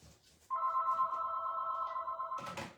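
A landline telephone rings close by, one long steady electronic ring tone lasting about two seconds after a quiet start, ending in a brief clatter.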